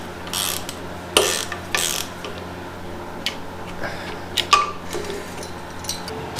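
Hand ratchet removing the two bolts that hold the ignition coil on a 1974 Honda MT250 Elsinore motorcycle, with a few sharp clicking bursts and quieter ratcheting ticks over a low steady hum.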